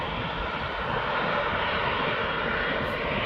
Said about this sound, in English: there is the Corfu flight coming in behind.